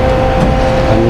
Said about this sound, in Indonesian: ada penambahan RPM guys